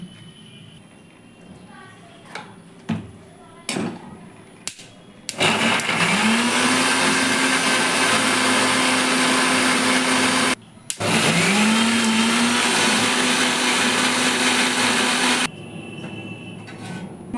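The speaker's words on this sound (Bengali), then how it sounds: "কাসুরি মেথি চালমগজ দিয়ে আমি মিক্সিটা করে নেব" A mixer grinder blends kasuri methi and melon seeds in two loud, steady whirring bursts, each with a rising motor whine, separated by a brief stop, with quieter clicks and handling before and after.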